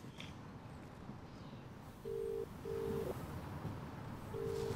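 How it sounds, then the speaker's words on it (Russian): Telephone busy tone from a phone that is switched off: several short, steady beeps with gaps between them, heard over a faint room background. "Да, действительно, телефон отключен."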